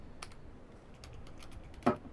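A few sparse, faint keystrokes on a computer keyboard, light clicks spread over two seconds, with one louder tap near the end.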